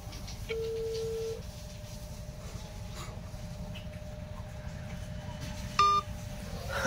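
An unanswered phone call rings out as a faint repeated electronic tone and beep over a steady low background hum, with no speech.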